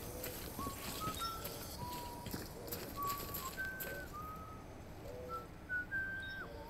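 In Death Stranding, someone whistles a series of short melodic notes that come and go over a noisy ambient background, fairly faint and unaccompanied by speech.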